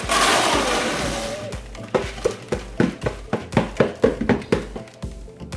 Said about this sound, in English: Now we're just going to pour our rinsed gravel